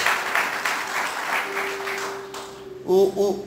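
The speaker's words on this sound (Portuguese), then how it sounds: "Você pode aplaudir a Deus por isso?" A church congregation claps in a dense burst that thins out, while a steady sustained musical tone hums beneath and a voice comes in near the end.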